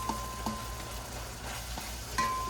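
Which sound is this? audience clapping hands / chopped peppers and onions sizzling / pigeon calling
chopped peppers and onions sizzling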